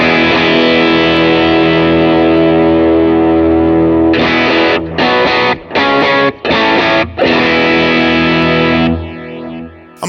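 Electric guitar played through a King of Tone overdrive model on a Line 6 Helix, ringing out in a loud, continuous driven chord wash, then chopped into several rhythmic stabs with brief gaps before fading out.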